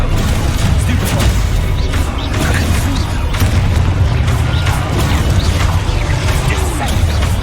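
Confringo and Levioso spell blasts in Hogwarts Legacy go off as loud, heavy booms and crashes, one after another over a constant roar of combat noise.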